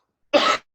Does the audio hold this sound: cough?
yes